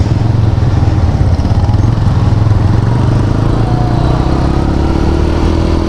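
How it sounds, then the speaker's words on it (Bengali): A loud, steady roar of several motorbike engines comes from close by on a road toward the Sajek hills. It drones without pause and without voices. "অনেকগুলো বাইক যাচ্ছে এর ভিতর দিয়ে,"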